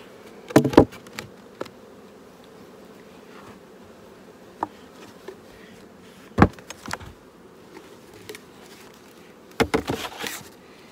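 Honeybees around an open beehive during an inspection, a steady low buzzing hum with close bees flying past the microphone and occasional sharp knocks and clicks of hive equipment.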